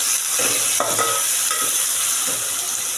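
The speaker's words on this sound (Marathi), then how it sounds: "इथे कांदा टोमॅटो छान शिजवून घ्यायचा आहे" Onion and tomato cook in oil in a pan for a prawn biryani masala, producing a loud, close, continuous sizzle. A few scraping strokes of a stirring spoon sound through it, with no talking.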